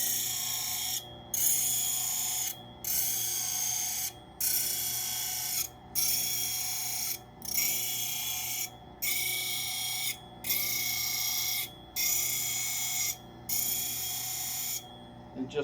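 Knife spine being ground with clean scallops on a powered sharpening machine, a loud steady mechanical whine broken into about ten evenly spaced bursts with brief pauses between passes, close and continuous.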